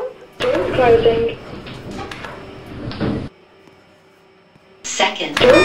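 Sliding elevator doors in a Roblox game moving shut in two bursts of grinding, whooshing motion separated by a quiet pause, loud and near, with speech mixed in at points.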